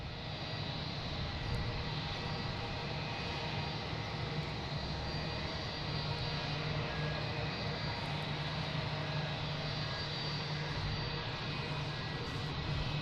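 A jet airliner taxiing to park at Boston Logan airport hums as a faint, steady engine drone with a low tonal whine, unbroken and without voices.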